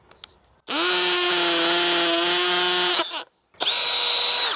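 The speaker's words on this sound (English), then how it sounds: "So the reason why it's called a hammer drill is because it's hammering that bit down into the cinder block." A hammer drill bores a Tapcon hole into cinder block in two loud, close bursts: a long steady whining grind, a short pause, then a second shorter burst.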